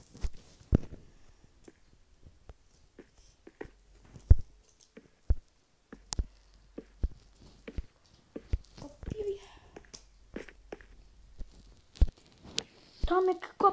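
Scattered clicks and taps of computer keyboard keys being pressed, irregular and fairly quiet, with a voice speaking occasionally in the background.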